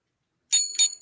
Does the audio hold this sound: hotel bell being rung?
yes